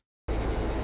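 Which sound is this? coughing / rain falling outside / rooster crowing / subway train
subway train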